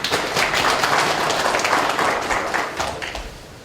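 An audience at a company quality-improvement competition applauds a presenting team with dense, steady clapping that tapers off toward the end.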